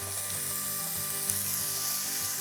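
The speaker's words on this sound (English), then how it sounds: "we'll pop the pan back on the heat and get that back up to temperature, and we can add our speck" Speck frying in a hot pan gives a steady, close broadband sizzle that holds evenly throughout, with a low electrical-sounding hum underneath.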